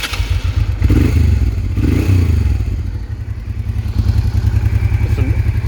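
A 1989 Honda XRV650 Africa Twin, already hot from highway riding, fires up and settles into a close, steady idle with a deep, even thumping pulse and some mechanical clatter.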